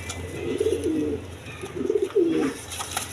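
Lotan pigeons at a farm give two soft, close cooing phrases in a quiet setting, with no talking.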